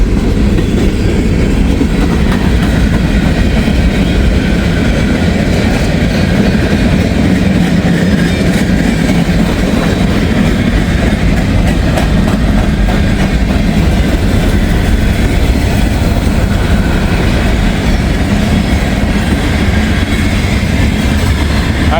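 A long freight train rolls steadily past at close range, a continuous loud rumble of rail cars with clattering wheels that holds for the whole stretch without a break.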